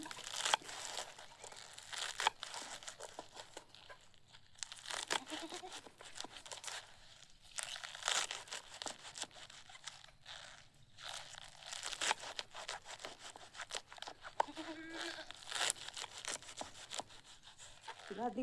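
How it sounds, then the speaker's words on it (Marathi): A knife slices through green onion stalks on a cutting surface beside an outdoor wood-fired clay stove, giving a soft, crinkly, uneven cutting sound at moderate distance over faint room noise. "इकडे पात कापते कांद्याची"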